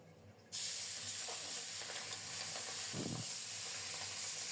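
Pabda fish sizzling loudly as a fresh batch drops into hot oil in a pan; a sudden burst of frying hiss begins after a brief quiet moment and then holds steady and close, with light stirring clatter.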